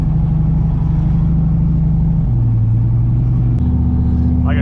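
A single-turbo Chevrolet Silverado pickup with a 5.3 engine pulls hard on a highway, a loud, steady engine drone that steps up in pitch as it works through the gears, with no talk.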